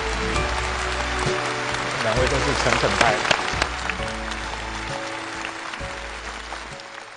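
An audience applauds at a televised Chinese singing competition, a steady wash of clapping under a host's talk and background music.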